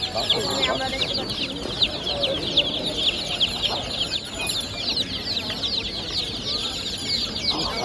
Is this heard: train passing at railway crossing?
no